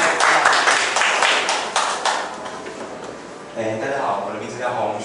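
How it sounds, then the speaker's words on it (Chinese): A small audience at a two-minute self-introduction meetup in Kaohsiung claps briefly to welcome the next speaker, a short burst of hand claps that fades before voices talk. "好，我们掌声欢迎。"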